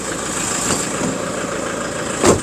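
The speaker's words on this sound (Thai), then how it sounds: "เสียงเครื่องเพาะๆนะครับผม" A 2005-engine Toyota Vigo single-cab pickup from 2008 idles with a steady, close, even rumble and a faint high whine, and a brief knock near the end.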